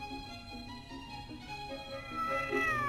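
A cartoon cat meowing in a drawn-out, wavering whine that rises in pitch and grows louder toward the end, over faint background tones.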